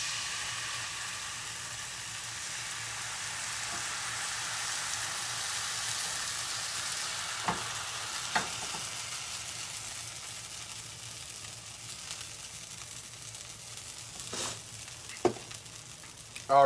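Crepe batter fries in a hot pan with a steady, soft sizzle, punctuated by a few sharp clicks and taps toward the end.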